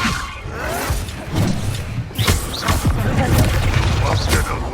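A Confringo fire spell explodes in the Hogwarts Legacy video game, bursting with booming, crackling blasts and whooshes in quick succession, loud and busy across the whole moment.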